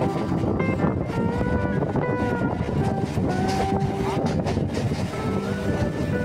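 A local train rumbles steadily past with constant low roar, faint metallic whines and wind buffeting, loud and continuous throughout, on the Sealdah to Dankuni line.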